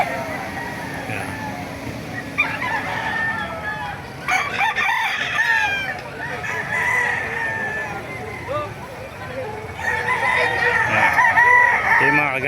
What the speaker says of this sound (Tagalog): Papakita ko sa inyo mga manok dito sa Bukay